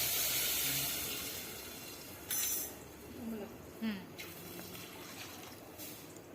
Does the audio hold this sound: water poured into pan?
yes